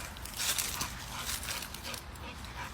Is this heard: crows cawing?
no